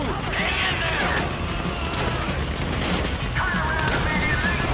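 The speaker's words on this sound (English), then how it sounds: "You hear that gunfire?" Bursts of rapid gunfire crackle and pop in a busy, noisy mix, with occasional whooshing and impacts, sustained throughout, from the video game GTA 5 during the Paleto heist.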